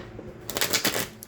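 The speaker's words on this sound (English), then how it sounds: "Let us part the deck, or shuffle rather" A deck of tarot cards being shuffled by hand, a brief close burst of crisp riffling flicks lasting under a second, with no talk.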